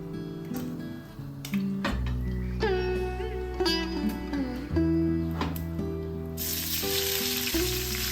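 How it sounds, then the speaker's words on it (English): Sliced onions sauté in hot oil in a pan, giving a continuous close sizzle beneath background music. The sizzle swells sharply louder near the end. "Now saute 4 medium onions that are sliced."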